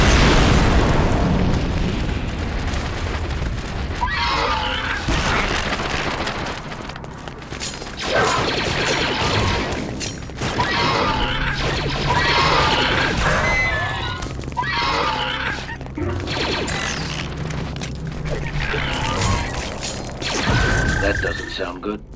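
Heavy booms and blasts from a battle rumble through Star Wars: Republic Commando gameplay, dense overlapping explosions that sound continuously loud over a low rumbling bed for the whole stretch.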